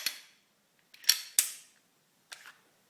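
Sharp metallic clicks and snaps from a Smith & Wesson M&P9L pistol as its slide is taken off, four distinct close, crisp clacks spaced irregularly with quiet gaps between.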